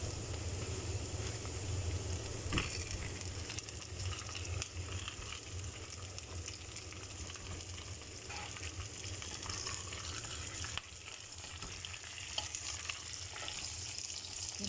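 Chicken is added to a pan of browned onion and garlic and fries with a steady, soft sizzle, with occasional stirring clicks and scrapes.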